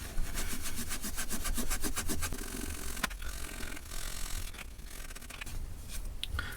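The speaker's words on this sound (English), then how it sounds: "what I'm going to use now is the wire wool. So again, I'm just going to rub and polish it" A silver coin is rubbed and polished by hand with wire wool, giving a steady, close scratchy scrubbing that repeats in quick strokes, eases off partway, then carries on with no talking.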